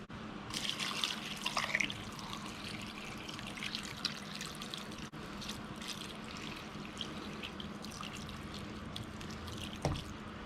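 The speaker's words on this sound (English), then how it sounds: "Now I'm just going to top that up with some water." Water poured into a pot of pig trotters with thyme, a steady close trickle and splash running throughout, with a brief sharper slosh near the end.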